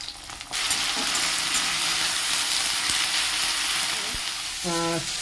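Dried chili, onion, garlic and green chili fry together in hot oil in a pan aboard a boat, giving a loud, steady sizzle with faint stirring clinks and a brief voice near the end.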